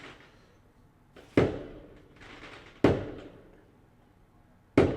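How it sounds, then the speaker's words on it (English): Fireworks go off in the background: three separate sharp bangs spaced a second or two apart, each followed by a long fading rumble, with quiet between them. "They lighting up fireworks."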